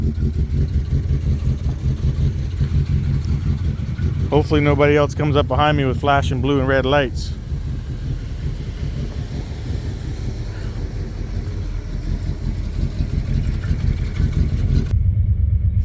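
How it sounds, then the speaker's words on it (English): A 1969 Lincoln Continental in poor condition idles and creeps forward in the rain, a low steady engine rumble running under a man's speech throughout. "Well, she's idling, she's moving."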